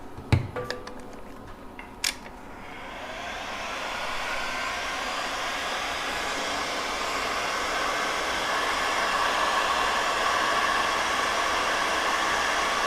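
A heat gun blows a steady, loud hiss of hot air onto the temperature sensor of a Siekon 12V 100Ah LiFePO4 battery while it charges, with a few brief clicks at the start before the rushing airflow holds constant.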